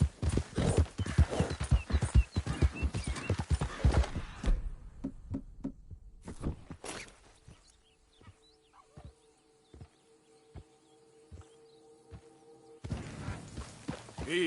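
A ridden horse clip-clops in quick, steady hoofbeats for several seconds, then slows to scattered steps and falls mostly quiet before the hoofbeats return at the end.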